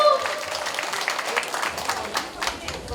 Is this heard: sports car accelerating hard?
no